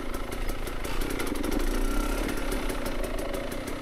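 A motorcycle with an XTNG GEN3+ carburetor pulls in first gear without the clutch, its engine a close, steady throb that rises slightly and holds, with no voices.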